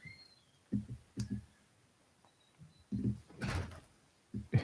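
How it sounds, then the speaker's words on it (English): Indoor door noises come as a series of quiet clicks and knocks, several short thumps and latch rattles spaced irregularly, with a louder cluster near the end and no talking. "Ignore the door noises."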